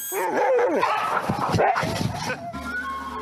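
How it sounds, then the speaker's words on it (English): A Siberian Husky gives a short burst of wavering, yelping howls and whimpers, close and fairly loud, ending abruptly in a quieter tail. "A husky's howl can be heard up to 10 miles away."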